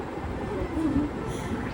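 A train rumbles past at close range, a steady low rolling roar with rattling that holds evenly for the whole short stretch, with no voices over it.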